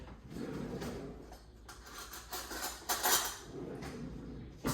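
A spoon scrapes the cooked flesh out of halved sweet potatoes for gnocchi, a run of close, scratchy scoops with soft clinks of metal against skin.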